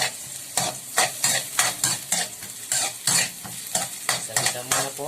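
Ginger stir-fries in a hot pan for chicken pares, with a constant sizzle broken by a regular rhythm of spatula scrapes and stirs against the metal, close and fairly loud.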